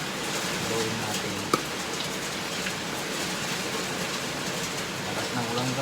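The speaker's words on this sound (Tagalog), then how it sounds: "Lakas ng ulan guys." Heavy rain pours down steadily around a home kitchen while tupig is being prepared, a loud, dense, unbroken hiss lasting the whole time with a single sharp knock partway through.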